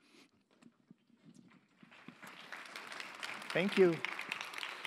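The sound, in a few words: conference audience applauding speaker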